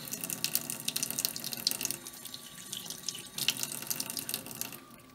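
Tap water runs and splashes onto a steel wool pad as it is soaked for cleaning rusted parts of a 1930s vanity lamp, a close, uneven gushing flow for several seconds.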